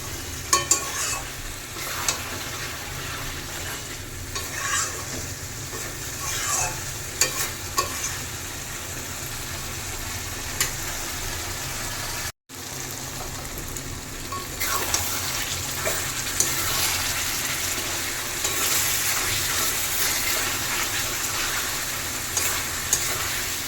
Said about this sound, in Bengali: ধৈর্য ধরে মাংস কষাতে হবে।